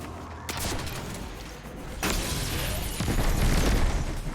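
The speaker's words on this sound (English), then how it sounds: "One way to do it is you can shoot him like that and then hop back up." Gunfire from a player weapon in the Destiny 2 Presage mission boss fight, with bursts of shots and booming hits building over game noise, loud and continuous with a heavier volley near the end.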